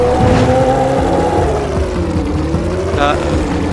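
Vehicle engine in the PS2 game Jak and Daxter, Fire Canyon level: a steady, loud, droning game-engine hum with a brief, bright whooshing speed boost burst near the end.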